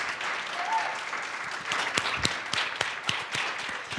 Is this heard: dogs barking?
no